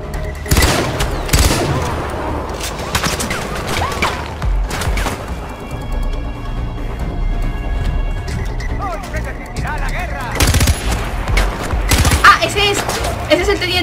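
Enemy gunfire in Far Cry 4 video game: loud bursts of automatic fire and scattered shots with crashes, in clusters at the start and again near the end, while someone shouts and talks over it.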